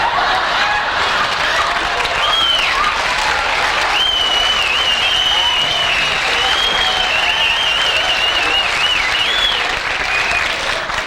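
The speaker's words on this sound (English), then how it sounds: "When the applause settled" Studio audience applauding on The Tonight Show, a dense, steady wash of clapping that fills the whole stretch, loud and close, with a few chuckles mixed in and no talking over it.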